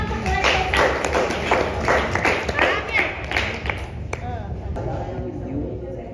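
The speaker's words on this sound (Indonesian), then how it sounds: "Tepuk tangan untuk mereka." Classroom applause for students after a science peer-teaching presentation: a burst of many hands clapping loudly and close, fading toward the end, with voices mixed in.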